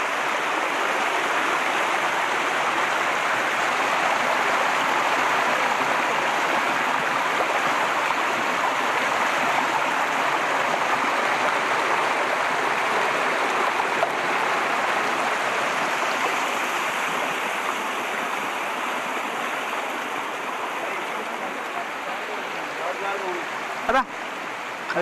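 Water at Sunnappugadda waterfall in Srikakulam rushing over rocks, giving a steady broadband roar that stays constant and fairly close throughout, with one brief sharp knock near the end.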